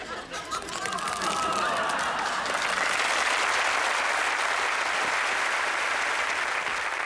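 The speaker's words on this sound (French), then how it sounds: "Vos applaudissements sont une nourriture pour moi." Audience applause at a live comedic stage show, rising quickly after a brief quiet start into dense, sustained clapping that fills the room for several seconds, with faint crowd chatter and a few chuckles mixed in.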